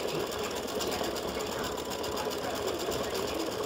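An embroidery machine stitches a freestanding lace Valentine pendant, running as a loud, steady, close mechanical whir with rapid needle rhythm that holds unbroken throughout.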